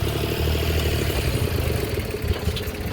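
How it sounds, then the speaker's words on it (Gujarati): A tractor engine putters steadily outside with a low clattering rhythm, moderately close and uninterrupted for a few seconds. "ને ટ્રેક્ટર પણ આવી ગયું બારે."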